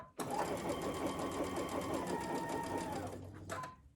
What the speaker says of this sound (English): you want to make sure that your machine is going to backstitch there